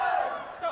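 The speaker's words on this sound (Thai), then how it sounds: "เชียร์เร่งนะครับ เป็นเสียงเชียร์เร่งเร้า ให้วันแห่งนั้นรีบเผด็จศึกเจอรี่โทมักดัน" Crowd at a Muay Thai boxing match roaring and cheering to urge a fighter on, a loud, dense burst of voices lasting under a second.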